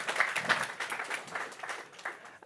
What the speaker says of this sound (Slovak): Ešte raz veľký potlesk pre Peťa.